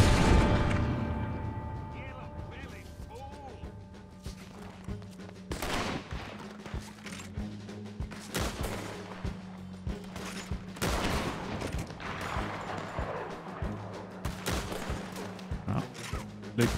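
Bursts of gunfire crack repeatedly at varying distances over a rumbling background, with occasional speech mixed in, in Red Dead Redemption 2 Online.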